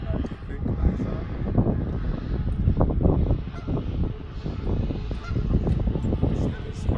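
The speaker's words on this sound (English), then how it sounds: "To the geese." Geese honking along the Charles River in Waltham, Massachusetts, a cluster of repeated loud, close honks in uneven bursts over wind noise on the microphone.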